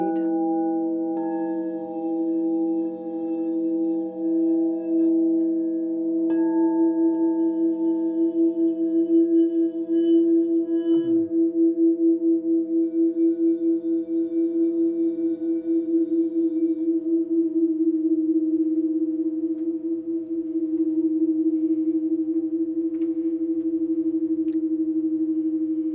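Singing bowls made in Salt Lake City ring out together in a steady, sustained drone, layered tones pulsing gently with a binaural beat, a few soft strikes adding brief higher shimmers, with no talk over them.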